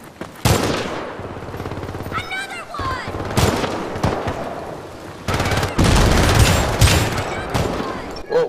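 Rapid SMG bursts from the video game Syndicate rattle out in several loud volleys, separated by brief pauses, with game effects between them and people talking over the action.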